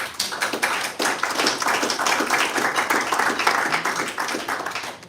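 Audience applause at an Orange County volunteer leadership meeting, a dense, steady round of many hands clapping for about five seconds at even loudness with no talk over it.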